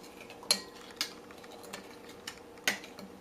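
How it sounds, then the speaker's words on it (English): Metal spoon stirring a bowl of pizza dough mix made from yeast, sugar, salt, hot water and olive oil, giving a few faint, sharp clinks spaced apart against a quiet background. "Now we stir it all up."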